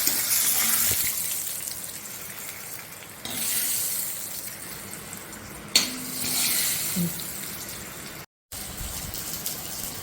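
Mustard seeds and curry leaves sizzling in hot oil as the tempering is poured into a Kerala curry of cucumber, mango and drumstick, a steady frying hiss with a few sharp crackles and a brief gap of silence.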